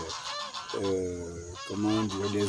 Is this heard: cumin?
no